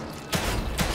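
Two heavy gunshots roughly half a second apart ring out in The Evil Within 2, each a loud broadband blast with a lingering tail, close and dominant with no talk over them.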